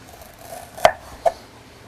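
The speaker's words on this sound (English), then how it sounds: "Just take the ginger and just slice off a little coin." A sharp knife slices thin coins off a ginger root, making two crisp, close cuts against a board, roughly half a second apart, with quiet between them.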